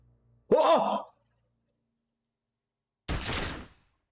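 A gunshot from the player's gun in the video game Disco Elysium rings out as one sharp, loud burst with a short echoing tail. A brief sigh-like vocal sound comes a few seconds before it.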